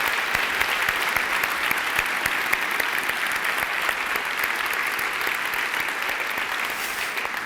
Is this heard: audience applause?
yes